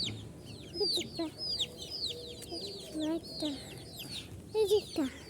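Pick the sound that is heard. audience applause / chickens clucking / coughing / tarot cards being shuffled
chickens clucking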